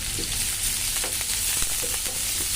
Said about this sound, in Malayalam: ഓയിൽ നന്നായിട്ട് ചൂടായി വന്നിട്ടുണ്ട് അതിനകത്തോട്ട് നമുക്ക് അരിഞ്ഞു വെച്ചേക്കുന്ന സവാള ചേർത്ത് കൊടുക്കാം